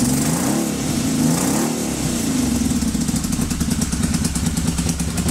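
A 1980 Yamaha XS850 motorcycle engine running cold with no choke, its carburetors behaving unevenly, giving a close, loud, steady rumble with a slight rise in pitch and a rapid pulsing beat.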